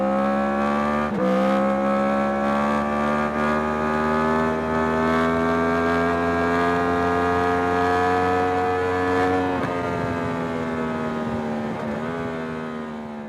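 Yamaha MT-10 motorcycle engine revving hard and climbing through the gears, a loud sustained pitch rising with brief dips at each shift near the one-second and ten-second marks.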